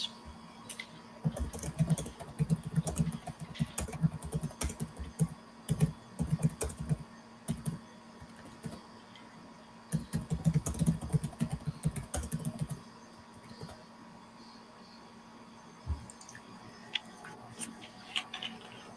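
Someone types on a computer keyboard during an online class, with clusters of quick, light key clicks in two long bursts and scattered taps between them. It sounds close and fairly quiet, with a faint steady hum behind it.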